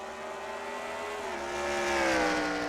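Race cars in the NR2003 racing video game at Sonoma, a sustained engine whine with gliding pitch as cars run through a corner, building slightly louder toward the end, without talk.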